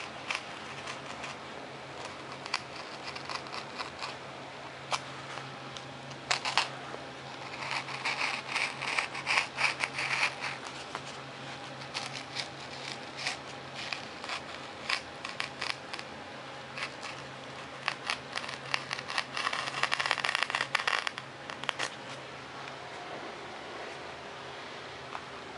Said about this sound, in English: Now I'll take my X-Acto knife and I'll finish up the rest of these all on the ends here.